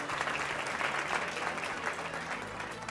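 A TV quiz show audience applauds steadily throughout, dense clapping with a few faint voices mixed underneath.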